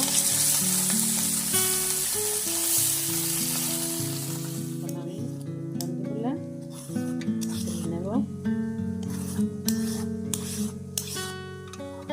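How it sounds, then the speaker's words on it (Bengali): Fresh bhata fish (a small river fish) lightly frying in oil in a frying pan, giving a steady broadband sizzle throughout with occasional stirring scrapes; music plays underneath, and the sizzle is loudest in the first few seconds. "মাছগুলো আগে হালকা ভেজে নিব"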